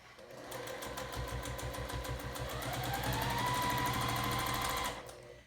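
A sewing machine runs continuously for about five seconds, stitching a prairie point onto a quilt with a fast, even mechanical patter at close range, then stops abruptly.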